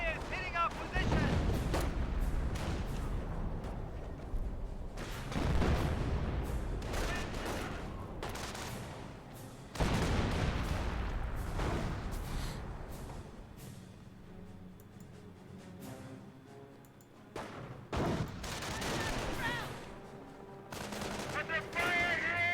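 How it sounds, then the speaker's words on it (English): Heavy gunfire and artillery rumble through a Company of Heroes battle, with repeated booming blasts, bursts of rapid machine-gun fire and rattling small arms. Shouting voices can be heard among the explosions throughout. "Enemy fire is hitting our position."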